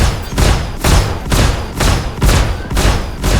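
Explosions in the Star Citizen 2.0 alpha space combat game: a steady run of about seven heavy, booming thuds in quick rhythmic succession, loud and close.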